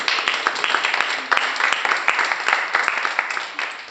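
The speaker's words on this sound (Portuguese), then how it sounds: "Vamos dar uma salva de palmas para Jesus." Church group audience clapping together in a sustained burst of applause at an evening worship meeting, dense and steady for several seconds with no talk over it.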